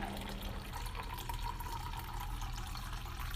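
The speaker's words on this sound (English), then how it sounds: "then you will pour the water into the French press" Hot water pours steadily into a French press for coffee, a continuous close liquid rush with a faint gurgle that runs without pause and with no talk.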